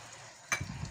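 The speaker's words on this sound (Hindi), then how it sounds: "पानी मैंने डाल दिया" Water hits a hot pan of fried potatoes and causes a brief, sudden sizzling burst after a faint, quiet simmer, close by in a home kitchen.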